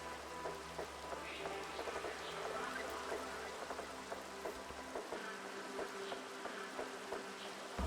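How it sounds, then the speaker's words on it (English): Rain falls steadily in a video game, a soft continuous patter of drops with a low ambient hum that fades partway through. No one speaks. "Why is it raining?"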